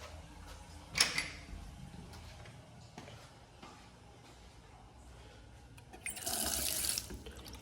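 A campground restroom sink tap runs water in two short bursts, with a faint tick and an echo from the hard-surfaced room.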